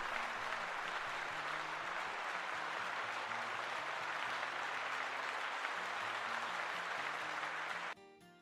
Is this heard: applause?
yes